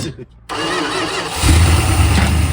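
An old 1971 Plymouth Fury engine, unrun for over 20 years, turns over and catches, settling into a rough, loud, rumbling idle up close.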